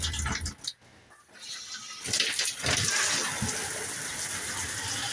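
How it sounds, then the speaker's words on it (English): Shower water runs from a faucet at an off-grid property in Sierra Blanca, Texas, starting as a brief gush and then a steady, fairly loud broadband rush of flowing water that continues alone. "And now your typical shower, you turn on the faucet."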